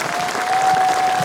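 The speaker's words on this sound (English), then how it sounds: "Give him a round of applause." Audience applause for a motorcycle rider at a Meet The Riders event in Coleraine, a steady burst of clapping from a modest crowd lasting just over a second, fairly close with no talk over it.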